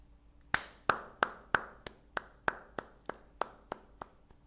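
Slow, evenly spaced hand claps, about a dozen sharp distinct hits that gradually soften, close and alone with no voices, applauding football coach Luis Enrique of PSG.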